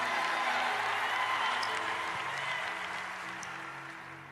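A church congregation applauds, a broad wash of clapping from a crowd that holds steady and then gradually fades out.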